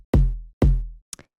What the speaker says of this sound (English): Next thing I'll show you is the kick,